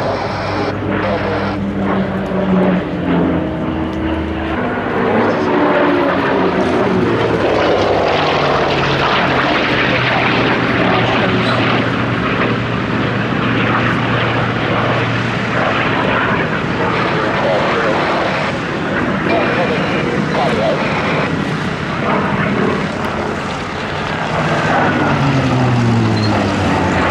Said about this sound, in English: Lovely display there by the DC-3